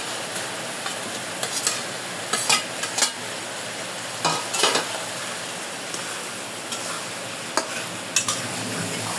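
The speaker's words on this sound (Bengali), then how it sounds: "আলুগুলো একটু ভালো করে মশলার সাথে মিশিয়ে দেব" Fried potatoes stirred into sizzling masala in a pan for a duck egg and potato curry, a steady frying hiss broken by several sharp scrapes and clinks of the spoon against the pan, close and without talk.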